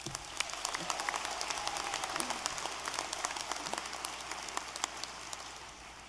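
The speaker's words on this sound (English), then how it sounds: "So give you all a round of applause for surviving the apocalypse" A round of applause at a university commencement ceremony, a large crowd's clapping heard faintly and at a distance as a soft, crackling patter with scattered sharper claps, fading slightly toward the end.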